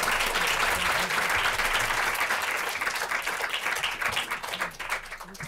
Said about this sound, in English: Please give a huge round of applause to our excellent panelists.